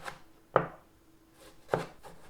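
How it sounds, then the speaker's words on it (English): Two crisp knife chops cut tomatoes into wedges on a board, spaced about a second apart, close and fairly quiet with little else around them. "Chop your tomatoes into wedges."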